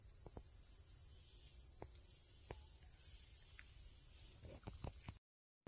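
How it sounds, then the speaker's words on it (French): Crickets chirp steadily through a nighttime walk in the open air, a constant high trill with a few faint clicks and taps on top, continuing evenly until it cuts off near the end. "Et le soir, j'en profite pour me balader et écouter le son des grillons."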